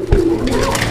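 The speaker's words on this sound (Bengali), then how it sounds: "এটা হচ্ছে একটা কোকা কবুতরের জোড়া" A pair of pigeons coos close by, soft throaty calls with a low rumble, heard briefly at a market selling pigeons.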